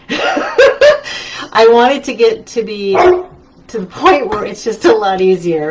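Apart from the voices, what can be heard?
dog barking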